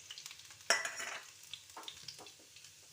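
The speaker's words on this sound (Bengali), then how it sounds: "এবার আমি রসুনগুলো দিয়ে দেবো, এগুলোকেও লাল করে ভেজে নেব।" Garlic fries in hot oil with a soft, faint sizzle, broken by a sharp clatter as a utensil stirs the pan and by a few light scrapes afterward.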